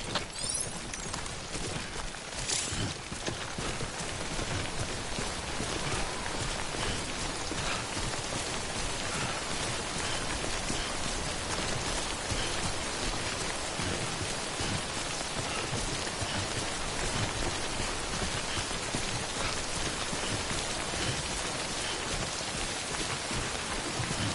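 Timefall rain in the video game Death Stranding falls as a dense, steady downpour that patters on surfaces around, loud and unbroken, with no speech over it.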